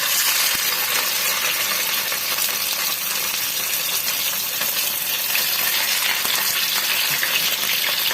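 Loud, continuous sizzling and crackling of thick salmon frying in oil in a pan, a steady hissing spatter that holds evenly the whole time.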